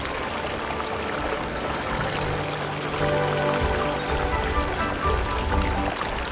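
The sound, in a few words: Erawan waterfall water flowing in Thailand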